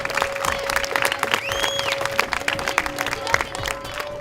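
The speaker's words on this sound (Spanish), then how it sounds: "Un aplauso, que es nuestro regalo." An audience of adults and children gives a round of applause as their gift at a young readers' gathering, with brisk, dense clapping throughout, a steady tone in the background and a few faint voices.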